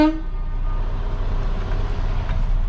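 Truck horn blaring in an off-road driving game as a heavy truck crawls through mud near the Old Mill: a long, loud steady honk with strong tonal bands at the start, then a sustained low engine rumble beneath.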